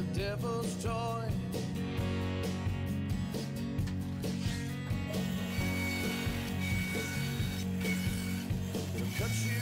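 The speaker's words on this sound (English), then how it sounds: "I'll cut this out on the bandsaw." Bandsaw cutting wood for a candy cart tray display, a steady mechanical hum with a rattling, ratcheting texture that stays constant and close, with no speech.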